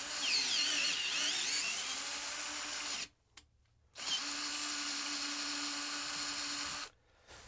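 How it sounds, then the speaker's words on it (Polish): A Parkside power drill whirs steadily while drilling and tapping threads, running in two bursts of about three seconds each with a short pause between, a high, close, buzzing motor tone with slight load changes. "Możemy od razu sobie wiercić i automatycznie gwintować."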